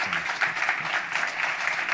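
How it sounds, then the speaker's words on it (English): Applause from an audience at a business conversation event, a steady broadband wash of clapping throughout with a faint voice underneath. "please stand up and give you a huge round of applause"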